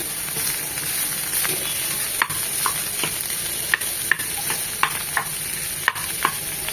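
Cauliflower bharta with shrimp and onion stirred and lightly fried in a pan, a steady close sizzle with scattered scraping clicks from the spoon, no talking.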